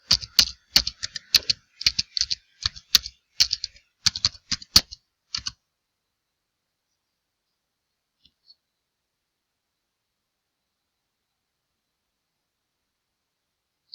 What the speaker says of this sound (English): Let me type in online businesses.